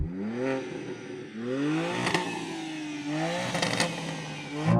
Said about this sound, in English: I'm going to rev up this car and we'll see what it sounds like